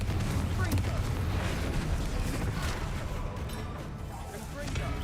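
The Confringo blasting spell in the video game Hogwarts Legacy erupts as a loud, dense roar of rumbling blasts and crackling booms that run continuously without pause, close and heavy.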